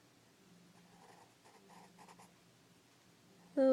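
Mechanical pencil scratching across paper while a Celtic knot is sketched, a few quiet bursts of short strokes, then a sudden louder sound at the end.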